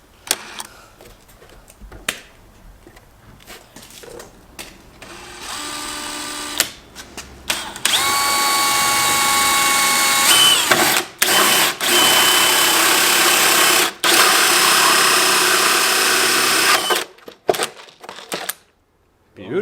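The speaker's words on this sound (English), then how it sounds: "So now we're gonna drill our hole." A power drill whirs steadily for several seconds, pausing briefly and restarting in short bursts, loud and close, with quieter handling noises before it starts.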